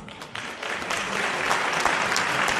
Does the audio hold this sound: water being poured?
no